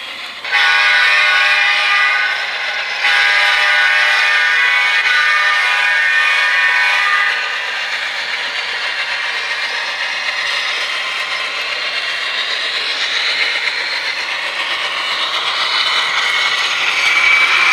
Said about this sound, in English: The train comes up on Alexandria